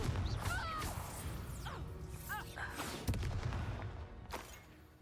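A Confringo explosive spell blasts in Hogwarts Legacy, a sharp whooshing crash followed by a rumbling tail, with other clattering spell effects and swishes around it.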